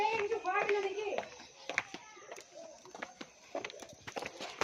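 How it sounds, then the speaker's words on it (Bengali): A flock of pigeons gathered together, soft cooing mixed with bird calls and a voice, faint and fairly distant amid outdoor background noise. "এই দেখো দেখেছো কত পায়রা আছে।"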